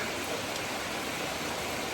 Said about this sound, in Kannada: ಮಳೆ ಬರ್ತಾ ಇದೆ ಗೈಸ್